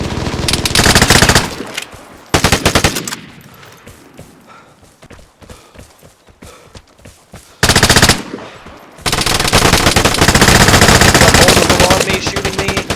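Loud bursts of machine gun fire in a video game, long rattling volleys broken by a stretch of scattered single shots and footsteps, then a heavy continuous barrage.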